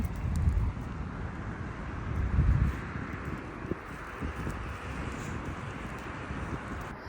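Cold wind blows steadily across an open dog field on a sunny winter morning, a broad rushing roar with gusty buffeting against the microphone.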